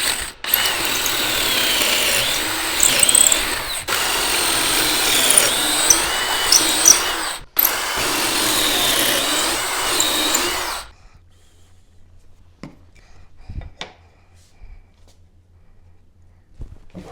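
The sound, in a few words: drilling ends of rail pieces on a Kreg boring machine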